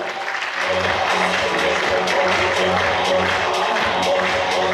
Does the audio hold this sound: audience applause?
yes